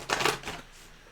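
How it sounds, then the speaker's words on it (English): Tarot cards being shuffled by hand at close range, a quick papery riffle lasting about half a second that then trails off into quiet. "I'm going to shuffle these a little bit better."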